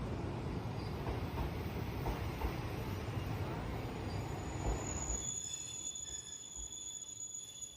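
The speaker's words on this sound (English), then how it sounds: "Ah, another train." A train rolls past with loud, sustained wheel squeal and rumbling carriages, the roar fading after several seconds and leaving high ringing squeals alone.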